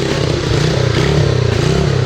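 Pit bike engine running close by, a loud, steady rough putter with rapid rhythmic pulsing throughout the short stretch.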